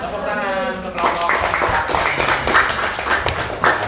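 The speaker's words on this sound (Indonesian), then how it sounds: "Tepuk tangan untuk kelompok." Classroom applause for a student group in a lesson on ratios, starting abruptly after a short stretch of voice and continuing as a dense burst of clapping from many hands.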